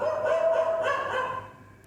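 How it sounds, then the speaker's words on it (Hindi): Dogs barking nearby, a short burst of barks and yips that fades out toward the end, heard alone without talk. "कुत्ते भौंक रहे हैं, थोड़ा रुक जाइए।"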